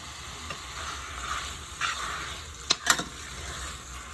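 Thin chicken strips searing in a hot pan for a stir fry with onions and peppers, a steady close sizzle with a couple of sharp utensil clinks near the end and no one speaking.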